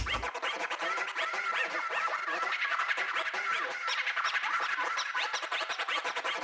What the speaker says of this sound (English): like vinyl vocal scratch chops that I did